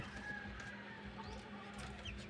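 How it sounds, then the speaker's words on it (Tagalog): Faint peeping of newly hatched chicks inside a homemade DIY egg incubator, a few soft high chirps over a steady low hum. "At ito naman, may sisiw na po sila."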